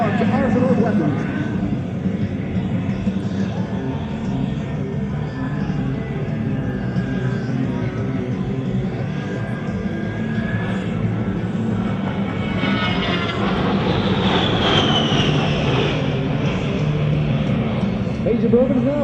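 An A-10 jet at the Bergen 2005 airshow roars past in a sustained, loud broadband rush that swells and shifts pitch as it banks and changes altitude, with a commentator talking over it throughout.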